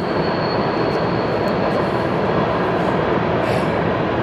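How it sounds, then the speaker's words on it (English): A BNSF freight train passes close by with a steady, loud roar of rolling wheels and rumbling cars, continuous throughout with no talking. "Somebody asked me recently what kind of trains they are. They are, in fact, BNSF."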